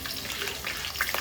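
Cut onions and green chillies frying in hot oil for a chicken curry, a steady soft sizzle with crackly bursts and a light stirring scrape, heard close up.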